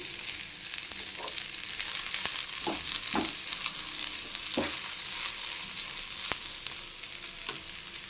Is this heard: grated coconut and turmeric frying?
yes